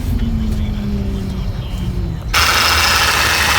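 A car engine idles steadily with a whining power steering pump, the note shifting as the pump settles, then a louder, broader rush of engine noise takes over near the end.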